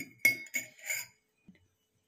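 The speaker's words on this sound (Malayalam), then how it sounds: "നമുക്ക് തേങ്ങ ജാറിലോട്ട് ഇട്ട് കൊടുക്കാം എന്നിട്ട് ഉള്ളി ഇട്ട് കൊടുക്കാം" Coconut and onion are dropped into a mixer jar for a fish and tapioca dish, giving a few short clinks and soft thuds over about a second, followed by near silence with one faint tap.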